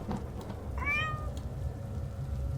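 A cat meows once in The Floor Above video game, a single rising-then-falling call heard clearly over a steady low background hum.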